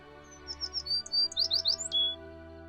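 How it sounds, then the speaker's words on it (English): An American tree sparrow gives a quick run of high, thin chirps and short trills that rise and fall over about two seconds, clear and fairly close above a steady low background hum. "In spite of the name, American tree sparrows are ground birds."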